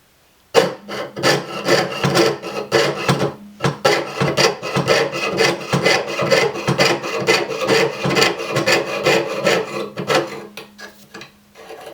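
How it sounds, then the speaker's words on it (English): A jeweler's saw frame and blade cutting out a metal ring blank, giving rapid repeated rasping strokes in a steady back-and-forth rhythm, close and fairly loud throughout with no talking. "Use your jeweler saw frame and a saw blade to cut out that edge and line that you created."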